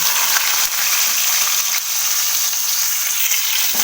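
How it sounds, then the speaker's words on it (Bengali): Chopped tomatoes and panch phoron frying in hot oil give a steady, close, loud sizzle, with brief stirring clatters from the pan and no voices. "তেল গরম হয়ে গেছে এবার আমি পাঁচ ফোড়ন দেব আমি যে টমেটোগুলো কুচি কুচি করে কেটে রেখেছিলাম সেগুলো দিয়ে দেব"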